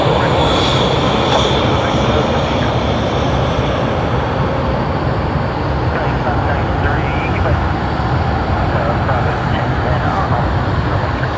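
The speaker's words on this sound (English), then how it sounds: "The Embraer E190 for us." An Embraer E190 jet at Sydney Airport gives a loud, continuous broadband engine roar that fills the whole stretch, heard close and steady without any voices.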